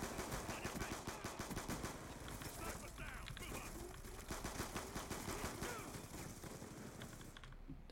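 Sustained LMG machine gun fire in Black Ops 2 rattles in rapid bursts, dense, rhythmic and fairly loud, nearly continuous for several seconds and fading briefly at the end.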